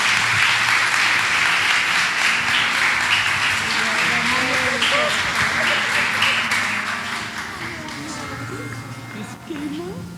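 A church congregation applauds a newly appointed deacon couple, steady dense clapping that fills the room before gradually thinning out, with voices and murmurs mixed underneath.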